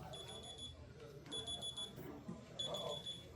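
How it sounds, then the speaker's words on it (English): An electronic alarm beeps in repeated bursts of high steady tones, fairly faint, at a submarine veterans' meeting in a room with low background murmur and some talk. "It's alarm time."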